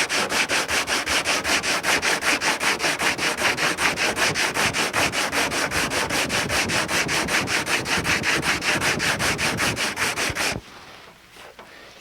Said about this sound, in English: So we have to do something called block sanding.